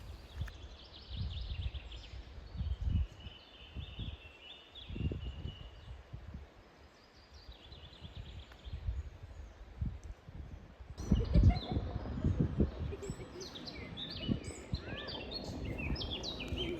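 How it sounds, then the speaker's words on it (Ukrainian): Birds chirp and call faintly among tall conifers in a mountain forest at a summer resort. Their calls are scattered and distant over soft rustling and low outdoor noise, growing busier toward the end. "Ці височенні хвойні ліса, цей спів пташок."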